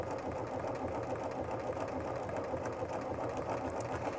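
Domestic sewing machine stitching the second bead of a buttonhole in cotton fabric, a steady, continuous mechanical whir and rapid needle patter at close range with no pauses.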